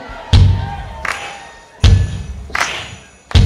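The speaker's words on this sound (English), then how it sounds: "So come on, let's get stomping." Crowd stomping at a live concert during a song, loud heavy thuds landing in a steady repeating beat with crowd noise between them.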